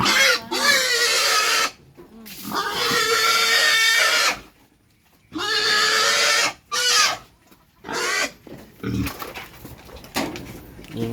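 A piglet about 17 days old squeals loudly and shrilly at close range in long, repeated bursts separated by short silences, with quieter grunting or noise toward the end.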